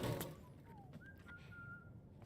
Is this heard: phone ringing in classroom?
no